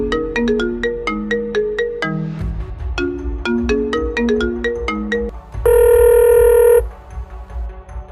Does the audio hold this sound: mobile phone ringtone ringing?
yes